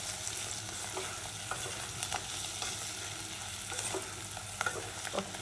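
Onions and chili powder frying in a pan, a soft continuous sizzle broken by repeated light scrapes and taps of a stirring spoon, no talking.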